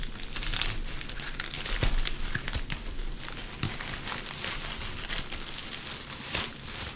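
A shipping package of crystal beads being pulled open, with steady close crinkling and rustling of packing material throughout and a few sharper tearing crackles, no voices.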